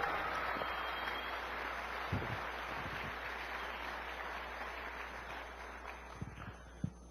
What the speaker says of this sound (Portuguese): Dá uma salva de palmas ao Senhor Jesus